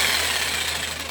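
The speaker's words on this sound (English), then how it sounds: "I'm just going to take a corded saw here that's getting tangled on everything" A corded saw cuts through a forged knife's grip clamped in a vise, giving a loud, steady buzzing drone with a constant low motor hum throughout the short stretch.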